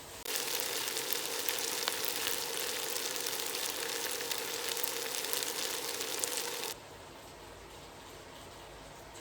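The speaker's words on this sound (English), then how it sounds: "I'm going to cook those herbs a little bit with these veggies, awaken those up, really." Herbs and vegetables sizzle steadily in a hot pan, a loud continuous crackling hiss that runs unbroken for several seconds before cutting off abruptly.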